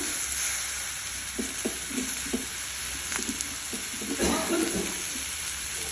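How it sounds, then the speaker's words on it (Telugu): Sprouted chickpeas fry in butter in a pan, a steady close sizzle with soft repeated stirring scrapes and light clinks running throughout, without speech. "ఈ బటర్లో శనగలు వేసలు రెండు కలిపి మొలకెత్తినవి దీంట్లో వేస్తున్నాను"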